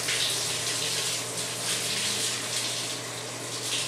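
A floor finish pad being rinsed under running water, a continuous loud rushing and splashing stream throughout with no talk.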